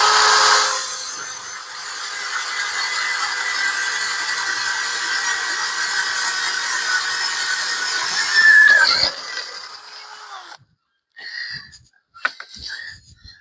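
A 5/8 drill bit bores through a coaster workpiece in a steady, loud whining run of about nine seconds, then cuts out, leaving a few short scraping bursts.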